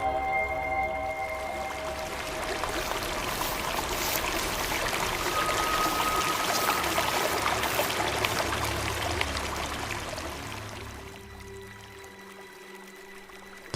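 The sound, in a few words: water lapping gently at the shore of a lake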